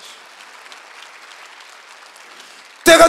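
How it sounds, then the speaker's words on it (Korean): A church congregation claps during a Sunday worship service, a soft, distant patter of applause that lasts a few seconds before a sudden loud burst at the end. "박수 하나 더 해주세요"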